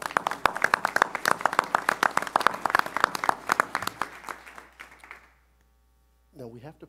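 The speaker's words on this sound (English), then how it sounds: "Please give a round of applause for Professor Nemi." An audience at a University of Missouri Board of Curators meeting gives a round of applause for Professor Nemi, steady dense clapping for about four seconds that tapers off, then a brief voice speaks after a pause.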